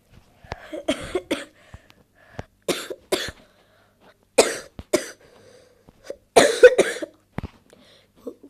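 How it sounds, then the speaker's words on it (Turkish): Repeated bouts of coughing from a sick man, several harsh clustered coughs spaced across a few seconds, close and fairly loud, with quiet gaps between. "Kusura bakmayın arkadaşlar öksürüyorum."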